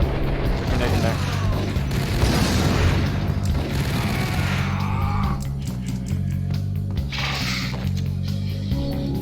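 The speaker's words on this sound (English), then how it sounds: "Grenade in there." Grenade blast in a video game, a loud sustained boom with crashing debris and rumbling gunfire through the clip, mixed under dense game sound.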